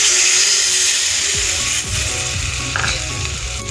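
Cow's milk is poured into a hot pan of sizzling mustard paste for a neem leaf curry, with loud frying hiss that briefly dips and crackles as the liquid hits and is stirred.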